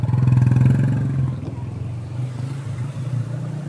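A motorcycle engine chugs loudly and steadily while riding through flood water on a submerged Metro Manila road during Typhoon Carina, with a low pulsing rumble and faint splashing and clatter beneath it.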